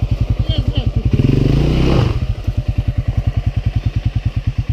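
A motorcycle on a steep uphill road to Yavornyk from the village of Lazy revs hard, with a loud, steady pulsing engine beat that surges to a dense roar in the middle and then drops back to a rhythmic chug.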